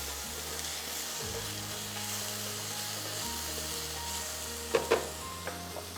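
Mushrooms brown in oil in a pan, giving a steady, soft sizzle with a few quiet clicks of stirring near the end.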